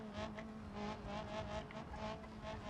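A car in the BeamNG driving simulator accelerating, its engine note rising and pulsing steadily with a strong tonal hum and a faint tire hiss, heard close and alone.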